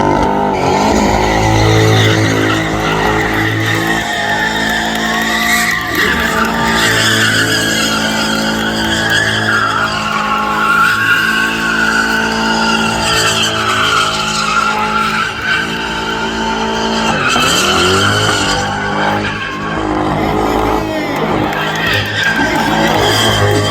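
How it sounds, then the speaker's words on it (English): A car, at a spectator drag racing event with a C8 and a ZR1 in the final round, does a burnout; a loud, continuous tire skid and engine roar runs throughout over crowd noise, with some voices. "Want to do a burnout?"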